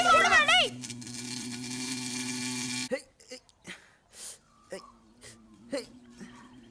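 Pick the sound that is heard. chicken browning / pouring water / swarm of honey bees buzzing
swarm of honey bees buzzing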